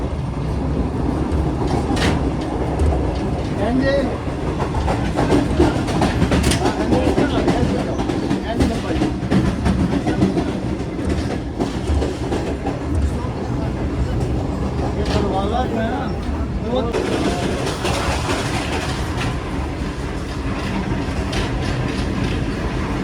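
Shalimar Express passenger train rolling through Safdarabad railway station, heard from on board as a continuous steady rumble with rail clatter and hiss, voices talking faintly underneath throughout.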